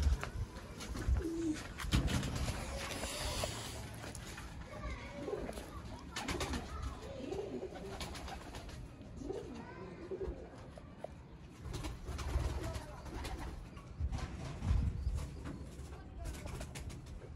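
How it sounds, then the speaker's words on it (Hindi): Soft coos from Chapde pigeons, a rare Sialkoti breed, repeat among a busy mix of background noise and faint voices, the calls low and murmuring rather than loud. "चपड़े कबूतर"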